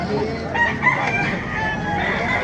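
A white kelso rooster crowing at a market, one loud, close, drawn-out crow filling the moment, with faint crowd background.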